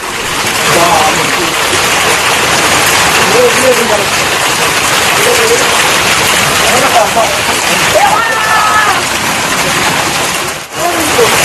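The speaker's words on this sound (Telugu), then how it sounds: "క్యాథలిక్ క్లబ్లో వడగండ్ల వాన పడుతుంది" Hail pelts down hard and steadily at a club in Bengaluru during a massive hailstorm, a dense, loud roar of ice striking surfaces that barely lets up, with faint voices underneath.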